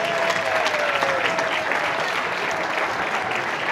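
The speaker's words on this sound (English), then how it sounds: "Come on, we can give a better clap than that." A crowd at the opening ceremony of the European Youth Championships in Tilburg, Netherlands claps loudly and steadily, a dense continuous burst with a faint whistle-like tone early on.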